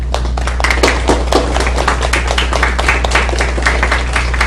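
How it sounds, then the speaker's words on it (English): Graduates at Cedar Grove Private School give their teachers a hearty round of applause, a dense, steady patter of many hands clapping close by over a low constant hum, with no break for its full length. "join me in giving all these teachers a hearty round of applause"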